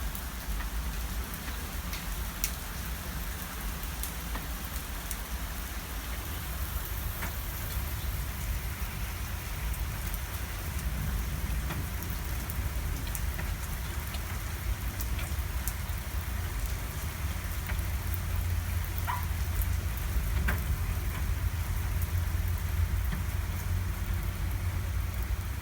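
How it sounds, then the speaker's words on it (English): Heavy rain pours steadily on the heels of a big hailstorm, a dense, continuous hiss that holds at a constant loudness throughout, with a low rumble underneath and no voices. "It's raining pretty hard."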